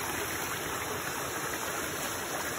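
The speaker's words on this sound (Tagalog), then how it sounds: "ito po yung pinanggagaling ng tubig" Stream water rushes steadily at its source near Barangay 3, a constant broadband wash with no pauses and no voices.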